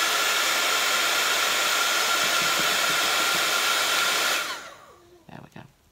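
A heat tool blows hot air in a loud, steady whoosh close by for several seconds, then switches off and spins down, leaving a few soft handling knocks.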